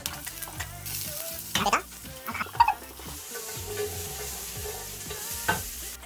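Premium pork belly and garlic frying together in a pan, giving a steady close sizzle with a few louder bursts of spatter and clatter partway through.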